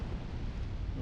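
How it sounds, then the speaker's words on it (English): Deep, steady roar of a blazing furnace fire in Dark Souls II, a continuous low rumble with no breaks across the whole moment. "Oh, that's a hell of a fire."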